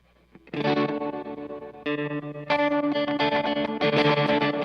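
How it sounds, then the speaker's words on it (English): Guitar chords played through a Strymon Flint pedal with tremolo applied to both the dry signal and the reverb, giving a rapid, steady pulsing throb across several sustained strums with ringing reverb tails, loud and alone. "So it's tremoloing both your dry and the reverb now"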